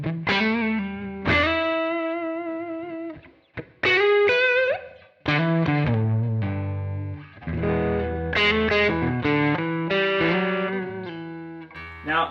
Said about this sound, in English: there's this amazing tone when you roll your volume knob down